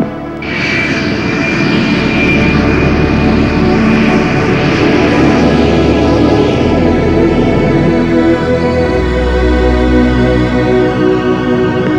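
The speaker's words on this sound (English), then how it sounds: "Boeing 757 clear to takeoff, runway 33, wind 180 at 24" A Boeing 757 jet airliner takes off from runway 33, a loud, steady engine roar that holds strong throughout and rumbles deep and close.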